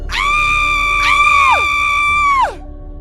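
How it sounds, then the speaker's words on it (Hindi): Loud, close screams and shouts from a cottage in a horror story. Two long wailing cries rise and then drop off sharply, one after the other, with no talk over them. "अचानक कॉटेज की तरफ से चीखने चिल्लाने की आवाजें आने लगी।"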